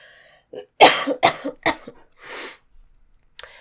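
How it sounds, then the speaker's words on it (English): Several harsh coughs from a person recovering from illness, a cluster of close bursts in quick succession followed by a short breath and a faint click. "I'm about to cough."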